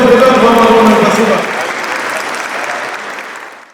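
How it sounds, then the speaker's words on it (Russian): An audience applauds a group of young participants as they leave at the close of a gathering at a spiritual centre, a loud dense burst of clapping that tapers away over a few seconds with no talk. "под ваши аплодисменты мы провожаем всех ребят"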